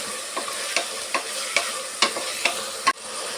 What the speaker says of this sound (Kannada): ಸ್ವಲ್ಪ ಆಯಿಲಲ್ಲಿ ತರಕಾರಿನ ಸ್ವಲ್ಪ ಫ್ರೈ ಮಾಡ್ಕೊಂಬಿಡ್ಬೇಕು